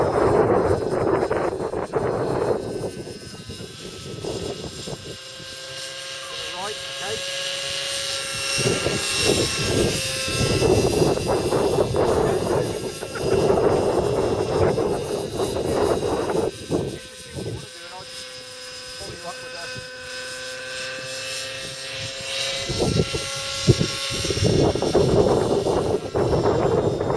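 A light aircraft's engine drones steadily in flight, with wind buffeting the microphone, while people talk over the noise throughout.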